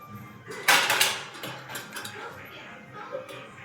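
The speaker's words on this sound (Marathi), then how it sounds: "त्याला झाकण ठेवते आणि थोडा वेळ शिजू देते." A lid set down on a cooking pan holding paneer, onion and capsicum, giving a sharp metallic clatter followed by a softer rattle as it settles.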